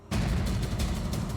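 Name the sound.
gunshot in a TV crime drama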